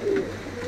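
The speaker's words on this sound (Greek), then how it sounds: "Τόσο ωραία περιστέρια." Fancy performing pigeons at a club show coo softly from close by, a low warbling call over a light steady background, with no talking.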